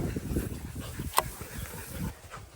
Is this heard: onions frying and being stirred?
no